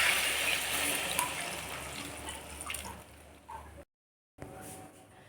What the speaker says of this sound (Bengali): আমি এরপর গরম জলটা দিয়ে দেবো